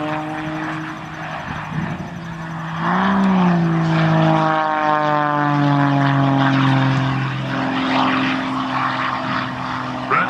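A propeller airplane drones past low and slow at an air show, its engine pitch rising and sliding as a faulty prop governor cycles the prop through high RPM, loud and sustained with a Doppler-like shift.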